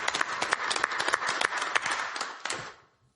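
A small audience at a neighborhood council board meeting claps for new members, a brief scattered round of applause that tapers off after about three seconds.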